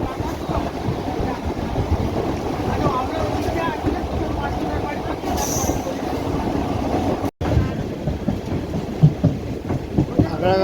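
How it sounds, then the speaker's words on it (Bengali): A passenger train runs toward Khagraghat station near Berhampore, Murshidabad, its steady rumble and clickety-clack of wheels filling the carriage with wind noise, close and continuous, with a brief dropout partway through. "এখন খাগড়াঘাটের দিকে ট্রেন চলছে"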